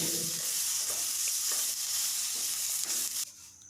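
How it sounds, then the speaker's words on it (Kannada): Steady sizzling of cumin seeds roasting in a pan over a low flame, with faint stirring scrapes, close and continuous before it suddenly quietens near the end. "ಸ್ವಲ್ಪ ಜೀರಿಗೆ ಹಾಕೊಳ್ಳಿ ಸ್ವಲ್ಪ ಲೈಟಾಗಿ ಲೋ ಫ್ಲೇಮಲ್ಲಿ ಇಟ್ಕೊಂಡು ಹುರ್ಕೊಳ್ಳಿ"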